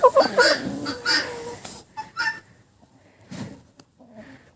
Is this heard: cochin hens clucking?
yes